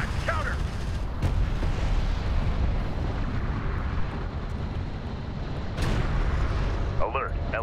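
Battle noise from Homeworld: Deserts of Kharak rumbles as a continuous heavy roar, with a couple of sharper impacts over it. Brief radio-style voice callouts come through faintly at the edges.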